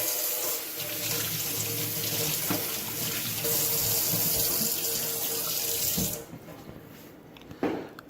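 A tap runs strongly into a sink as Switch console parts dyed atomic purple get a quick rinse, a steady close gush that stops abruptly, leaving faint handling clatter and a brief splash.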